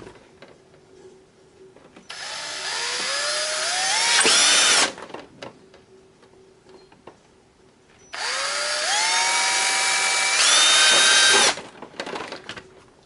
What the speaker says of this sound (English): So now I'm going to drill these holes.